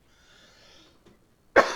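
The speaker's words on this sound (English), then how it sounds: "Excuse me, coughing." A single sharp cough from someone with a lingering illness bursts out loudly near the end, after faint breathing and a quiet stretch.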